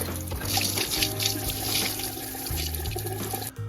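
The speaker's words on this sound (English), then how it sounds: "Now I'm just gonna drain all this water out here at the slop sink." Water drains steadily out of a house's plumbing into a basement slop sink, a continuous loud splashing rush with a low pipe hum underneath, which cuts off abruptly near the end.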